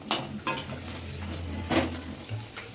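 Batter-coated teasel gourd pieces fry in a pan over low-to-medium heat, giving a quiet steady sizzle broken by a few light clinks of a utensil against the pan, with no voices.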